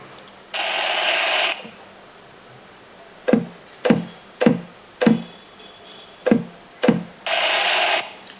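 An object drops onto wood six times, a series of dull knocks spaced roughly half a second to a second apart, framed by bursts of static-like noise at the start and end.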